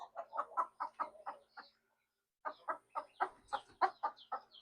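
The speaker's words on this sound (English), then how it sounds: "That is a speckled Sussex." Speckled Sussex chickens cluck close by in quick bursts of short, throaty notes, a short pause breaking two rhythmic runs of clucks.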